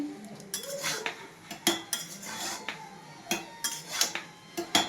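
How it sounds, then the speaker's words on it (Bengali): A metal spoon stirs beans, carrots, capsicum, cashews and raisins in a pan, with repeated scraping and clinking strokes against the metal in an irregular rhythm, close up. "আমি আবারও নাড়াচাড়া করছি।"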